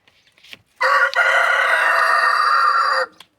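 A rooster crows once, loud and close, a long drawn-out call lasting about two seconds, with brief quiet before and after.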